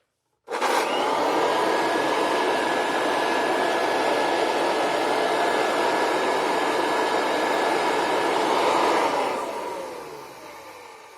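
An old Kirby Classic vacuum cleaner without its brush roll starts abruptly and runs with a steady, loud whirring roar for about eight seconds before it powers down and fades.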